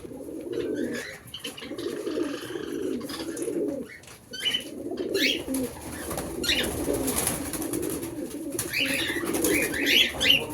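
Caged pigeons cooing repeatedly at close range, overlapping low rolling calls with occasional chirps and bursts of wing flapping, no voices.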